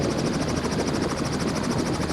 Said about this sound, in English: Listen to that wind buffeting the camera.